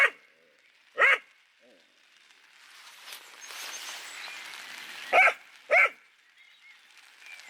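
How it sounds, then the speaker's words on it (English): A dog barks and yaps in sharp, loud bursts at a stormy campsite, with single barks near the start and a quick double bark near the end over low wind noise and a soft whimper. "I don't want to hear you yapping all day, and you're my dog."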